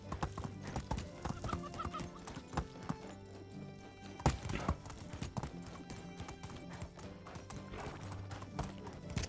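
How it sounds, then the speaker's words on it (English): Hooves clip-clop in a quick, steady rhythm over soft background music in the video game Medieval Dynasty, with one louder thud partway through and a horse's whinny. "No, I'm using a horse."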